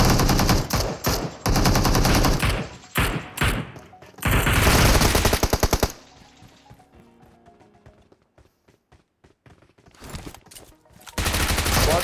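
Loud bursts of rapid automatic gunfire in the mobile battle-royale game PUBG Mobile come in dense volleys. A quieter stretch of sparse shots and ambient game sound follows before the firing resumes near the end.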